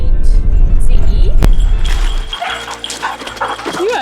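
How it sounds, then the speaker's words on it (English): A dog riding in a LandCruiser yips and barks in short, loud bursts over heavy engine and road rumble, with a sharp knock partway through. "You actually know how to bark"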